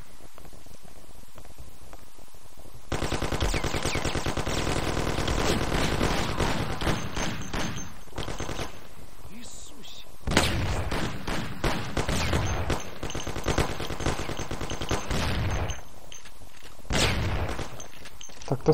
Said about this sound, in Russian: Кто стреляет? Где-то сзади.